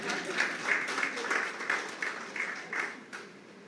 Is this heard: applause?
yes